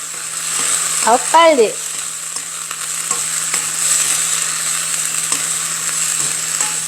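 Garlic scapes and shrimp sizzle steadily in a hot pan with soy sauce, a quick scrape of stirring near the start and faint clinks under the continuous frying hiss.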